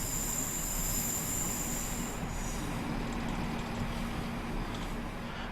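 Class 150 and Class 143 diesel trains on the South Wales Coastal route in Train Simulator 2016, a steady rumble of rolling wheels and track noise with a high whine that fades partway through, no talk.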